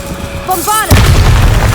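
A Bombarda blast spell from the video game Hogwarts Legacy erupts as a single loud, booming explosion. It is preceded by a brief magical casting whoosh and a shouted incantation, and a rumbling tail follows.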